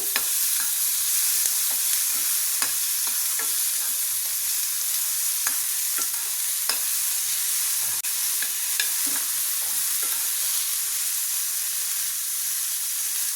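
Tomato and onions frying in a pan with a steady high sizzle, broken by repeated scraping clicks of a spoon stirring, close and continuous with no voices.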